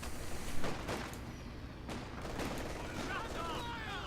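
A Vickers machine gun firing in the strategy game Company of Heroes 2 during a 2v2 match on a winter map, crackling bursts amid distant battle noise and explosions, under a caster's steady commentary.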